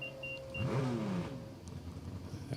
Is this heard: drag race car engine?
yes